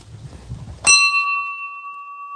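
A garden bell gets a single sharp strike after some quiet rustling, then rings out with a clear, pure metallic tone that sustains and slowly fades, loud and close.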